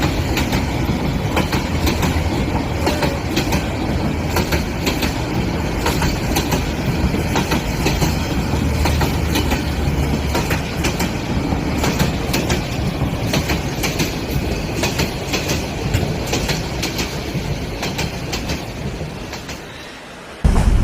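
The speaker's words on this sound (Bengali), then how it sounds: "ওই যে দেখ, ট্রেনটাও এসে পড়েছে।" A cartoon train pulls into a station and keeps running, a loud, steady rumble with continuous clickety-clack of wheels on rails that holds for about twenty seconds before cutting off abruptly, with no voices.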